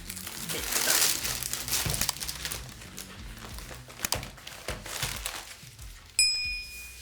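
Plastic packaging of a Spell Queen diamond painting kit crinkles and rustles during unboxing, with scattered close clicks and clinks and a bright ding near the end.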